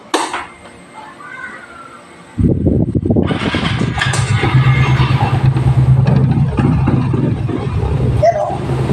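Yamaha Mio i 125 scooter at a motor shop, turned over and starting after about two seconds, then running at a steady, fairly loud idle with a buzzing engine note. Someone talks over the start and the engine.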